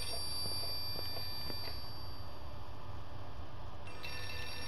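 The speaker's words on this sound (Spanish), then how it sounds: "como si estuviese el teléfono sonando" A telephone rings in the horror video game Outlast 2, a steady electronic ringing with high tonal lines held over a low droning ambience, moderately loud and without talk.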